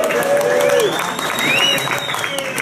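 Audience at an unplugged rock band concert applauding and cheering loudly, with a few whoops and whistles rising above the clapping.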